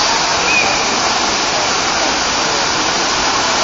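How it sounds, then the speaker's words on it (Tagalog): Hinulugang Taktak Falls, a waterfall, gives a steady, loud, broadband rush of falling water that stays even throughout, with no breaks or changes in intensity. "Ito po ang Hinulugang Taktak Falls."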